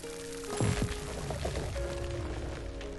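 Crops are watered in the farming game Grow: Song of the Evertree, a short bright splash of pouring water over a steady tonal game hum, with no talk.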